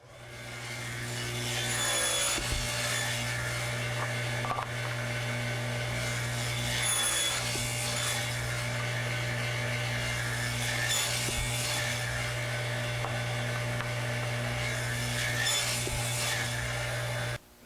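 A table saw blade cuts tenon shoulders on a wooden board held on a crosscut sled against a stop block, giving a steady loud whine of sawing through wood with a constant motor hum throughout.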